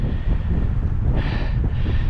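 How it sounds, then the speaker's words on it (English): Strong wind buffets the microphone in a steady, rumbling roar on an exposed hiking trail in northwest Scotland, with a brief louder gust partway through. "It keeps gusting like it is just now."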